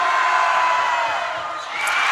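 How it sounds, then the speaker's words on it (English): Crowd noise filling a high school girls' basketball gym during a semifinal, a dense, loud, steady roar of cheering and whooping that swells briefly near the end, with no clear talk over it. "Here comes the crowd."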